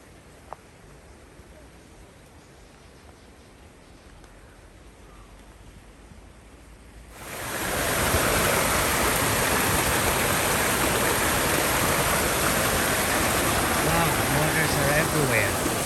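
Fresh spring water at Tel Dan springs in northern Israel rushes in a steady broadband wash, faint at first and then swelling suddenly to a loud, close, continuous flow.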